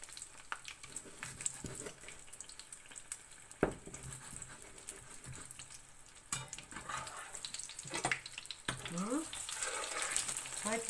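Brik pastry fries in hot oil, giving a faint, low sizzle broken by occasional clinks and scrapes of a utensil in the pan.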